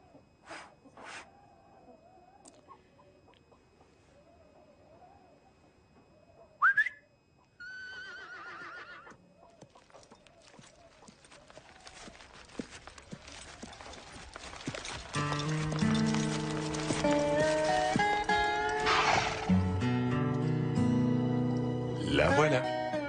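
Quiet talk comes first, then a sharp whistle calls the horse Sandy, followed by loud, close whinnying and snorting as the horse answers; a voice speaks between the sounds.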